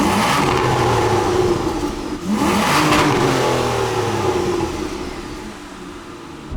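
A 2008 Aston Martin DB9 coupe's V12 engine revs loud and close, a sustained rising and falling drone that dips briefly mid-way, then eases off toward the end with no talk.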